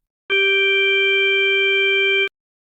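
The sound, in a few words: additive synthesis tone with several overtones, like a pipe organ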